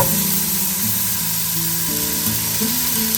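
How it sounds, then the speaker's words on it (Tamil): Chopped onions fry in melted butter in a pan, giving off a steady, close crackling sizzle with shifting tones. No one speaks, and the sizzle holds throughout. "இப்படி நல்லா இது இப்படி கொஞ்சம் மெல்ட் ஆகி கொண்டு வரைக்குள்ள நீங்கள் வெட்டி வச்ச ஓனியனை இதுக்குள்ள போட வேண்டும்"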